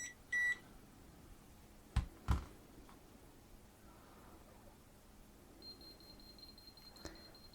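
A Kaiweets HT206D clamp meter's detector gives a short electronic beep early, followed by a couple of soft clicks and a thin, sustained high tone later in a quiet room.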